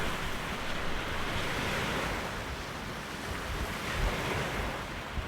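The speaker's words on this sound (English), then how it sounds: "The wind was kicking up big waves here on Clear Lake" Strong wind drives big waves against the south shore of Clear Lake. The surf roars as a dense, continuous wash mixed with gusty wind buffeting the microphone, close and loud throughout, with no voices.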